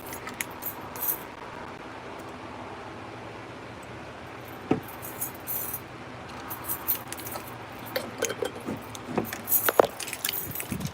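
A bunch of keys jangles in scattered bursts, sharp metallic clinks rising out of a steady background hiss, heaviest toward the end.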